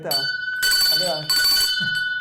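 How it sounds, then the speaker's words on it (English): A bell rings with sustained metallic tones that last through the clip, partly under a man's close, loud talking. "Give me the bell."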